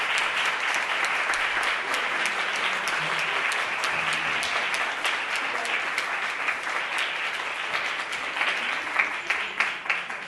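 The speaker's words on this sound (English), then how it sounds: "Can we all give the candidates a round of applause?" An audience at a League candidates' lunch forum for a New York congressional district applauds the election candidates, with dense, sustained clapping from many hands in a room that carries on steadily for about ten seconds.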